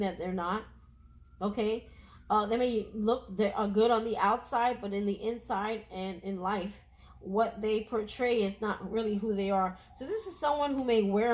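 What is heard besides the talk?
No everyday noise stands out behind the speech.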